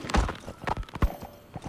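Horse hooves clopping in Metal Gear Solid V, a few heavy uneven thuds of a horse's steps on the ground, close and distinct over quiet game ambience.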